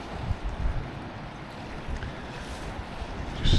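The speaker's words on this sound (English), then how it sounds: "Just looking at the waves crashing against the rocks, it's a bit choppy out there" Choppy sea at Portals Nous, Mallorca, with waves washing and crashing against rocks, heard as a steady broadband rush with wind buffeting the microphone and a louder surge at the end.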